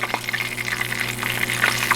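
A catfish fillet sizzling as it drops into hot grease, a steady crackling fry with a constant low hum beneath, close and fairly loud, with no talking.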